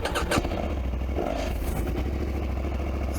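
A Husqvarna Norden 901 adventure motorcycle pulls away, its engine revving briefly and then settling into a steady, close, moderately loud putter.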